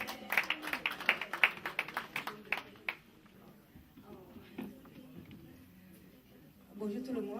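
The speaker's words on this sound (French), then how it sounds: "Applaudissez pour elle." Audience applause at an annual conference of a Malian cultural center: a burst of sharp, scattered hand claps for about three seconds that quickly thins out, followed by quiet murmuring and voices.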